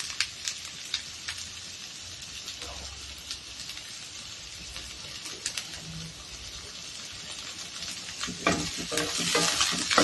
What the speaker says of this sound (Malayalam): കറിവേപ്പില ഇട്ടിട്ട് ഇത് നന്നായിട്ട് വഴറ്റിയെടുക്കണം.